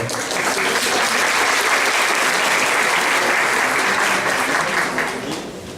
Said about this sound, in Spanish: Así que para nuestro querido cabo James, un fuerte aplauso, por favor.